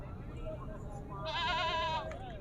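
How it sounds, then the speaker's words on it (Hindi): A goat bleats once, a drawn-out nasal cry rising over a busy, noisy goat market on the Hyderabad bypass, with a steady crowd rumble underneath. "यहाँ पर कामोरी, पटेरी और बहुत सी नस्ल की बकरियाँ यहाँ पर आई हुई हैं"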